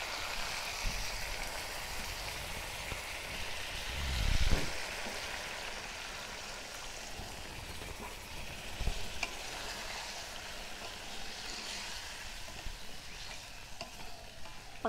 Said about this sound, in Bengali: এবার আমি এর মধ্যে দিয়ে দেবো পানি,